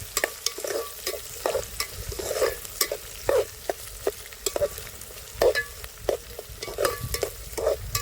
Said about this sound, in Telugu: వేసుకొని నూనెలో మంచిగా ఫ్రై చేసుకోవాలి